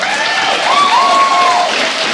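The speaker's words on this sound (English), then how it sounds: "You're not bothered by everyone cheering for you?" An audience at a StarCraft 2 WCS Premier League event applauds and cheers loudly and steadily, with some whistles and shouts rising over the clapping throughout.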